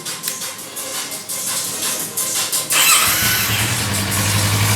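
A Kawasaki ER-6n motorcycle engine cranks with a whirring starter, then catches and settles into a steady, close idle.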